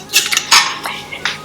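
Eggs being whisked in a bowl for yoghurt pancake batter, a few quick, sharp clinks and scrapes of a utensil against the bowl, close and loud, in short irregular bursts with no talking.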